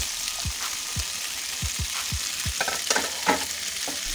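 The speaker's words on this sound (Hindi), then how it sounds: "इन्हें भी साथ ही फ्राई कर लेंगे। ऑयल में फ्राई करने से ये होगा कि ये चिपकेंगी नहीं।" Boiled macaroni crackling in hot oil while a spoon scrapes through it, each stroke a low swishing sweep repeated about twice a second over a constant loud sizzle.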